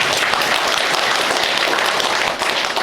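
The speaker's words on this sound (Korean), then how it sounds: "박수 한번 쳐주시기 바랍니다." A crowd at a local county gathering claps in sustained applause, dense and even throughout, with no speech over it.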